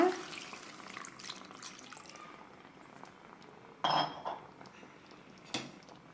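Water is poured into a pot of Chettinad chicken saaru in a couple of short splashy bursts, with light clinks of metal cookware between them.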